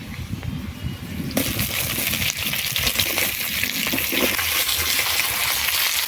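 Cut potato, taro and sponge gourd tipped into a pan of frying onions, a clattering drop followed by a sudden louder hiss and crackle as the vegetables hit the hot oil, then steady sizzling with occasional stirring clinks.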